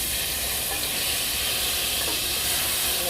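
Garlic sizzles in melted butter in a pan for creamy shrimp and scallop linguine, a steady close hiss with faint stirring scrapes throughout and no talking.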